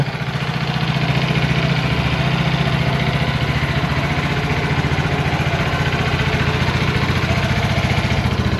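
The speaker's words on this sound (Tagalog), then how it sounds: "Yun yung kanyang tunog ng engine. Wala naman tunog ng any vibration, smooth naman yung kanyang tunog." A new Vespa Primavera S 150 scooter engine idles steadily and smoothly up close, a low even putter with no vibration and no changes in pitch or loudness.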